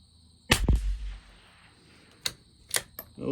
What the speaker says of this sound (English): we're gonna shoot the first sighting target